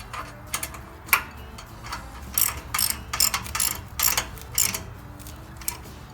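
Ratcheting clicks from a hitch-mount kayak rack fitting being tightened on a Jeep, arriving in short irregular bursts of mechanical ticks at close range, with no talk.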